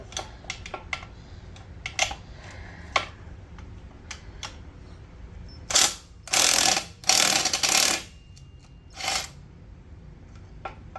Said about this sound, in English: Loosen up a little bit so I can get that bolt to turn. So I get the wrench on it.